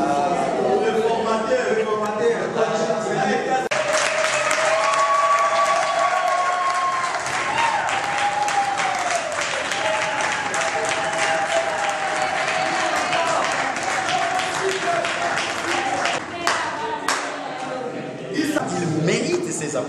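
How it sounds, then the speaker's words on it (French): Workshop audience in Kinshasa applauding a trainer, a dense, sustained wash of clapping from a crowd, loud and near, with voices and cheering mixed in and a tonal whistle-like sound rising above it midway. "Il mérite ces applaudissements."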